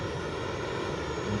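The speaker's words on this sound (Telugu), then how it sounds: "The revive flight will arrive in 1 minute." A rescue aircraft arriving in a multiplayer video game gives a steady, faint engine drone with no voices over it.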